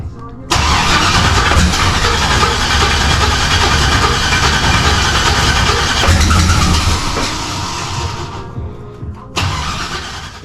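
A turbocharged Camaro engine cranks with extra fuel and fires up. A loud, close, rough roar runs unevenly for several seconds, dips, then surges again. Voices talk over the engine.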